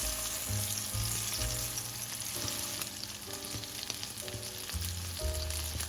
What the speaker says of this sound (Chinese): 然后翻面再煎60秒